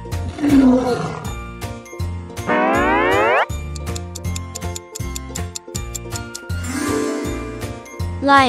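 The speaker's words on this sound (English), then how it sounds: "Lion." A lion roars twice, at the start and near the end, set against a bright jingling, bouncy musical backing with no speech.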